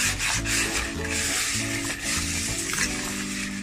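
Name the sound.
wiping inside of a baking tin with butter wrapper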